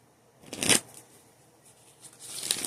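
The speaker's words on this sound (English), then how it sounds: "One more shuffle." A deck of cards is shuffled in two short, crisp riffling bursts, close and fairly quiet, with a pause between them.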